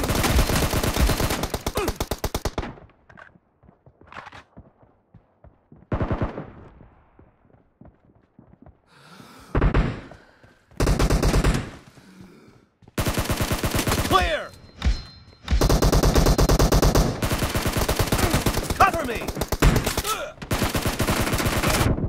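Gunfire in PUBG Mobile during a team deathmatch: loud bursts of automatic rifle fire in long stretches, broken by short gaps of near silence and a few isolated shots.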